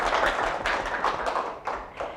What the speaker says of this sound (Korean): 정말 유익한 강의 들려주신 신성훈 연사님께 다시 한번 박수 부탁드립니다